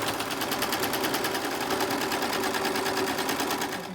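A Brother 1034D serger runs a chain stitch with no fabric under the foot, giving a steady, fast mechanical whir with a rapid rhythmic clatter, close and constant throughout.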